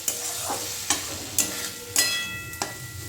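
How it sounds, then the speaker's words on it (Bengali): Spices with a little Kashmiri red chili are stirred and sautéed in a pan, with a soft continuous sizzle broken by about five distinct scraping strokes of a spoon or spatula against the pan. "একটুখানি কাশ্মীরি রেড চিলি খুব সামান্য দিয়েছি দিয়ে সমস্তটা খুব ভালো করে কষে নিতে হবে"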